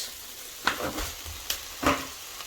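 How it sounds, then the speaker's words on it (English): Food frying in a pan and being stirred, with a soft continuous sizzle and several distinct scraping stirs of a utensil, close and clear. "So I'm just going to stir this up."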